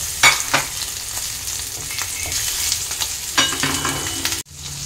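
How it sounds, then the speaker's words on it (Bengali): Hilsa fish pieces frying lightly in oil in a pan, a continuous bright sizzle with a few louder pops and stirring scrapes, ending abruptly. "মাছটা একটু হালকা ভেজে নেব।"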